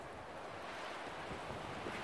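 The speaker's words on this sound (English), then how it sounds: "Whoa, it's windy." Gusty wind blowing outdoors in snowy weather, a continuous broad rushing roar buffeting the microphone at close range, with no voices heard.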